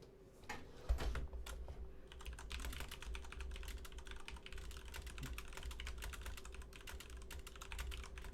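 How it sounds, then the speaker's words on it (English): Someone types on a computer keyboard chosen for its noisy keys, a fast, continuous patter of quiet clicks over a low steady hum. "You like the typing noises?"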